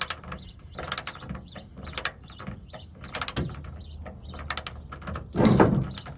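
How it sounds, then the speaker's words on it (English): A torque wrench ratchets in short bursts while tightening a Torx bolt on a bed anchor in the truck bed of a 2nd Gen Toyota Tundra, the clicks close and steady, ending in a louder grinding rasp. "take a torque wrench set to 55 foot-pounds"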